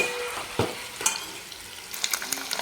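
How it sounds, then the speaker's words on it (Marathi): Eggs frying in hot oil for an egg curry, a steady bright sizzle with occasional crackles and spatters, close and alone. "तर आता ह्याला कंटिन्यू आपण सगळे करून फ्राय करून घेऊ अंड्याला."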